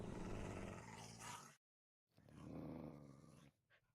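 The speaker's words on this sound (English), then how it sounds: "What are you growling at?" A dog growls deeply and continuously, close and loud, in two long rumbling bursts separated by a short silence, with no talking over it.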